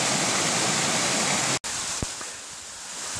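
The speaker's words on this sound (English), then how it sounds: "There's a nice 15 foot waterfall." Steady rushing roar of a nearby 15-foot mountain waterfall on the Pacific Crest Trail near Seiad Valley, broadband and constant, briefly cut off by a short dropout before resuming slightly softer.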